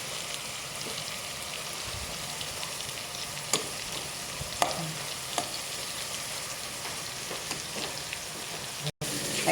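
Tomatoes fry in a pan, crackling in a soft, steady sizzle with scattered pops and a brief dropout near the end.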